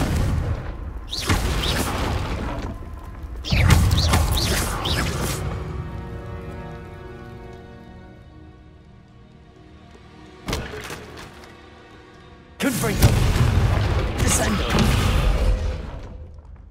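Heavy booming blasts from the Confringo fire spell in Hogwarts Legacy, three separate loud explosions with deep thuds and whooshing bursts, each trailing off into a long rumbling decay between hits.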